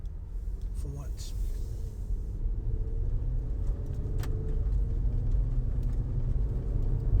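A car drives at a steady pace with a phone holder mounted inside, giving a constant low road rumble and engine drone that builds slightly, heard from the cabin with a few faint rattles.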